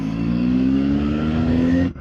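A CFMOTO 750SR-S motorcycle engine in third gear rises in a steady, loud, near drone with a rising pitch as the throttle opens, then cuts off abruptly near the end.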